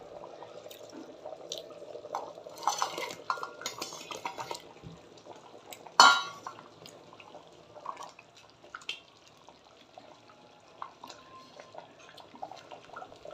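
Cooked Undhiyu is mixed with fried muthia in a cooker pot, giving faint, sporadic scraping and clinking of a spoon against metal with soft wet stirring and one sharper knock midway.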